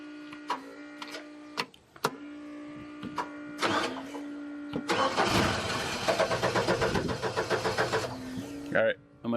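Abandoned boom lift that has sat unused for over a year, its engine cranking repeatedly with a steady, loud, rhythmic starter churn that does not catch, alongside clanks and mechanical noises close by.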